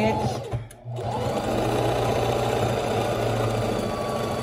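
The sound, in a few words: sewing machine doing a straight stitch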